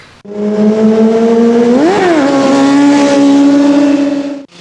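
Motorcycle engine revving hard as the rider clutches up into a wheelie, a loud sustained roar that swells in pitch near the two-second mark and then holds steady, close and alone with no talk.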